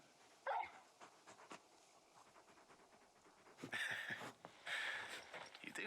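Torgal, the large dog companion in Final Fantasy XVI, pants and gives a couple of brief barks, heard faintly among game sounds with bursts of louder effects near the end.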